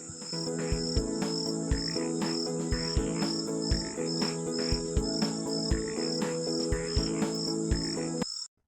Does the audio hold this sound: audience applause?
no